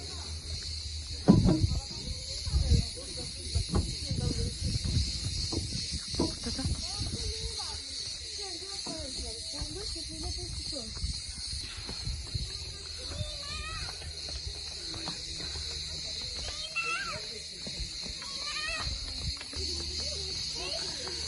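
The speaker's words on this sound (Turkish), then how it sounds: "Her tarafta cırcır böceği sesleri koro halinde çalıyorlar" A steady, high chorus of crickets chirring continuously among the ruins of the ancient city of Ephesus near Izmir, running throughout with scattered voices and movement noises beneath.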